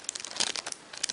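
Thin plastic bag packaging a pirate DVD crinkles softly up close, a quick faint rustle with a few brighter crackles and no talk.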